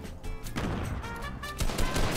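Sniper rifle shot in the video game Fortnite, one sharp crack amid a short, dense burst of game gunfire and effects, fairly loud with no talk over it.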